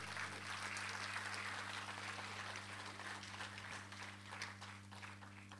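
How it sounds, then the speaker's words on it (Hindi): Audience applause at a stage music evening, continuous crowd clapping throughout, moderate in level, over a steady low electrical hum. "जोरदार तालियों से अभिनंदन करें."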